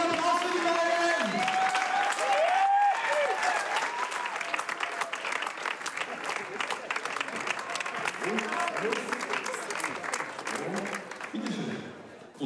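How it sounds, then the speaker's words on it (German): A crowd applauds warmly as the newly revealed apricot royal couple is called forward, loud sustained clapping with scattered cheers, gradually thinning toward the end while voices chatter underneath. "Einen herzlichen Applaus für die beiden!"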